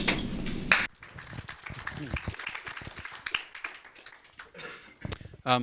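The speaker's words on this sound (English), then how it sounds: "I hope you heard the appreciative applause from this end" Appreciative audience applause following the close of a lecture on combating terrorism and ideologies of hate, a short burst of clapping from a room, faint and somewhat distant, with brief speech at the start.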